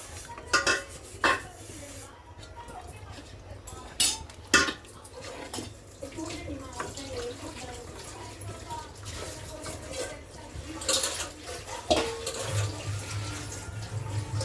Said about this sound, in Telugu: చూడండి కొంచెం వాటర్ కలుపుకోవాలి అందులోనే